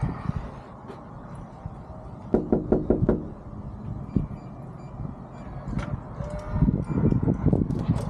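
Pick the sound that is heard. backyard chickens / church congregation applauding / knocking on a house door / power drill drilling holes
knocking on a house door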